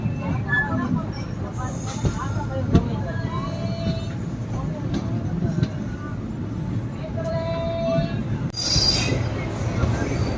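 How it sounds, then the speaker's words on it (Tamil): Chennai Egmore–Puducherry passenger train pulling away, steady rumble of wheels on rails with brief high metallic squeals and a short hiss burst near the end, heard from close by with faint voices in the background. "ஸோ ட்ரெயின் டிபார்ட் ஆகிடுச்சு."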